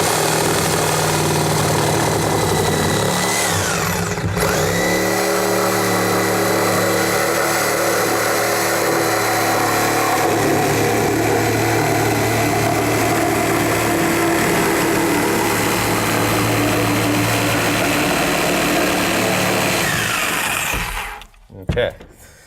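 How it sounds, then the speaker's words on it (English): A saw cuts wood along a shoulder stud while preparing a rough opening for door and window installation, a loud continuous motor whine with cutting texture lasting about twenty seconds before stopping abruptly. "ease the saw on into the cut, and then once you're through, you can continue going down the side of the shoulder stud here"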